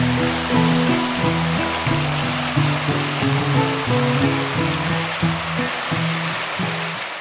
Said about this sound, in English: We could see the overflowing streams from the Frying Pan Lake passing by the walking trail.